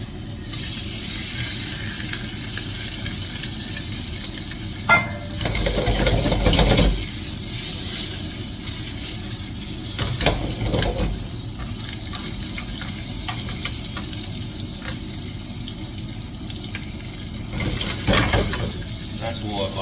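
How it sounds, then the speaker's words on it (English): Prawns frying in hot oil that was used to cook aromatics, a steady broadband sizzle filling the scene, with a few louder bursts as they hit the pan and are stirred. "Tuck in a little bit more of that oil that we cooked the aromatics in. Let that heat up and we'll throw the prawns in."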